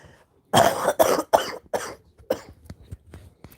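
A close, loud fit of coughing: several harsh coughs in quick succession, then a few weaker ones trailing off.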